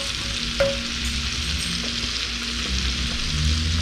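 Shallot and garlic sweat in butter in a pan, a steady, soft sizzle that stays even throughout, with one small clink near the start and faint stirring beneath. No voices.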